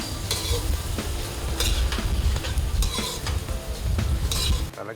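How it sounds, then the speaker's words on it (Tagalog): Garlic with white and red onions sautéing in a pan alongside boiled clams, a loud, close sizzle overlaid with repeated scraping and stirring strokes of a utensil against the metal. "Sa kawali, igigisa ang bawang, puti at pulang sibuyas. At saka ihahalo ang mga napakuloang kabibe."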